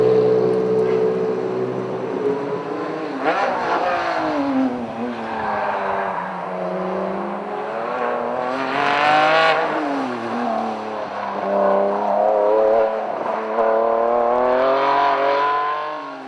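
Ferrari and Maserati cars lap a race track at a festival, engines rising and falling through gear changes as several cars pass in succession, loud and near, with revving swells and no talk.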